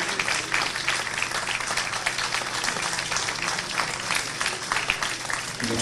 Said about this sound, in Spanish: Un fuerte aplauso, doctor Rivera Oré.